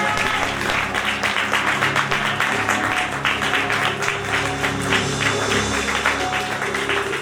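Church congregation applauding during a Sunday service, a steady wash of many hands clapping at close range throughout, with faint organ or keyboard tones sustained underneath.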